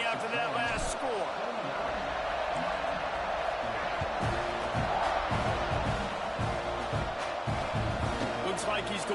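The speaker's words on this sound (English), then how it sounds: "this crowd is buzzing after that last score" Stadium crowd in College Football 26, a continuous dense roar that keeps buzzing at an even level, with the announcer's commentary running over it and occasional thumps cutting through.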